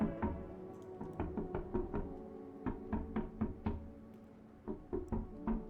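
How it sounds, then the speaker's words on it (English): Knocking in the video game I'm Not Human: repeated muffled raps in uneven bursts of two to four, with short pauses between, over a low ambient hum. "I just hear knocking"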